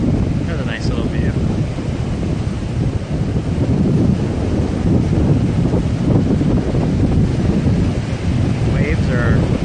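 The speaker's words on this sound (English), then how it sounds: "Waves are okay." Waves and surf on a Southern California beach near Salt Creek, a loud continuous low roar buffeted by wind against the microphone, with faint bird calls near the start and end.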